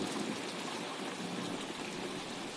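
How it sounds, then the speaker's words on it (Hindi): Heavy rain pours steadily with a dense, even hiss of drops and running water, constant and close throughout with no voices. "बारिश बहुत ज्यादा तेज हो रही थी"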